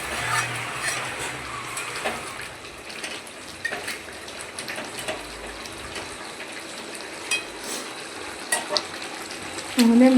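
Chicken kosha, a village-style Bengali spiced chicken dish, sizzles and fries steadily in a pan for about ten seconds, with occasional scrapes and knocks of a spatula, close and moderately loud with no talking.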